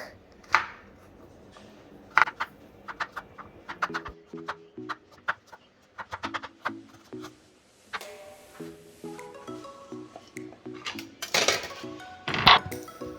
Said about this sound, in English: I started by dicing my garlic